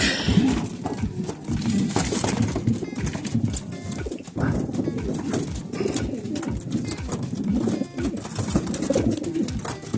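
Young racing pigeons in a pen, many birds cooing continuously and close by, with shuffling and wing sounds mixed in.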